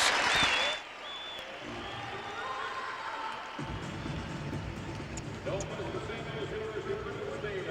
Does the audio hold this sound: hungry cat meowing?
no